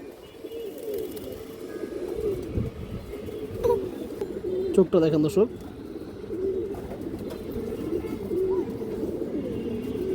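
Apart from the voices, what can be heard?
Bagha and Beji breed pigeons cooing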